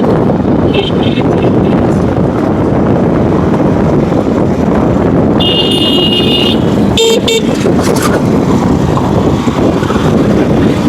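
A car driving in third gear through busy Dhaka streets, with steady road and wind roar throughout and a few horn toots from nearby traffic.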